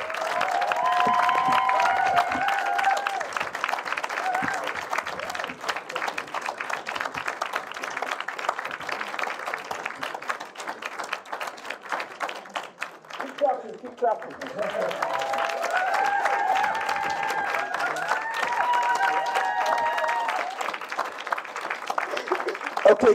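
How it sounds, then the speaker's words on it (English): Sustained audience applause at a student film festival awards ceremony, loud and dense clapping for the Best of the Festival winner, briefly dipping near the middle before swelling again, with music playing underneath. "Keep clapping, keep clapping."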